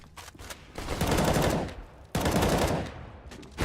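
Rapid bursts of automatic gunfire from a Counter-Strike match between Gambit and Mousesports at a DreamHack Masters esports event, two loud sustained volleys of spraying fire with a brief gap between them.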